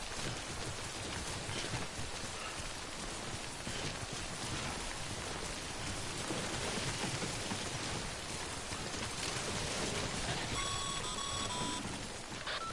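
Timefall rain in the video game Death Stranding, a dense steady hiss of rainfall across the whole stretch, with faint electronic beeps near the end.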